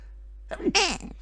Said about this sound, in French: pardon, j'ai éternué